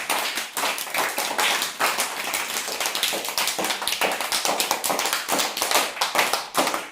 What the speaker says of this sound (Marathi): सगळ्यांनी स्वतःसाठी जोरात टाळ्या वाजवायच्या